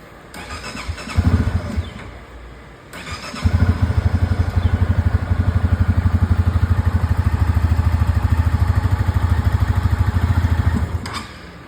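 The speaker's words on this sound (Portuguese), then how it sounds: "agora eu vou mostrar pra vocês a dificuldade que tá de pegar essa moto aqui" A hard-starting motorcycle engine cranks cold on its first start of the day, sputters briefly and cuts out, then catches and settles into a steady close idle that runs until near the end.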